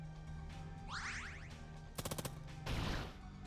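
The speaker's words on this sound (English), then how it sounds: "Alright, let's shoot the other one." Gunfire in the video game Long Gone Days: a short rapid burst of shots followed by a noisy crash-like blast, faint overall over a low droning game soundtrack with a swooping synthetic effect before it.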